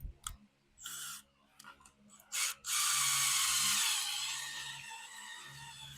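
A power driver sinks a self-tapping screw into an old utility trailer, with a few short clicks and brief bursts first, then a sustained close whirring drive that slowly fades.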